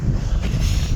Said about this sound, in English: The wind is just ripping right here